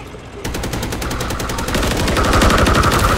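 Rapid automatic gunfire in Modern Warfare III during a team deathmatch, dense bursts of shots rattling continuously and growing louder and busier toward the end, with no talk over it.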